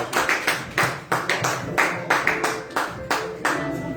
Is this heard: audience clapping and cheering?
yes